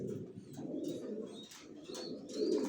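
Big-sized racer pigeon chicks of a long-bodied line cooing softly in a loft: a steady, low, burbling coo repeating close by with a few faint chirps above it.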